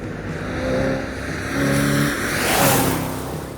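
A powerful new car tears through Chicago city streets, its engine revving and surging in rising waves of acceleration, loud and close with no voices.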